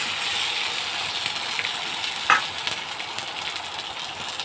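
A dish is being stir-fried in a kadai in a home kitchen. A continuous frying hiss is heard, with one sharper scrape of the utensil midway and faint stirring clatter after it.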